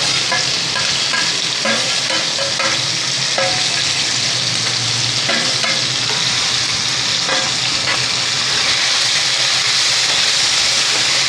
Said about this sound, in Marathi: हे सरळ ह्याच्यामध्ये घालून परतून घ्यायचं आहे.